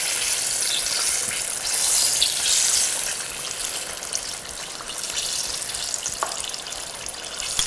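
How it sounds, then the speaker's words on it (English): Mango rangoons deep frying in hot oil make a continuous loud bubbling sizzle that swells and eases, close up and steady, with no voices. "make sure that all the little tops and all the little nooks and crannies get deep fried."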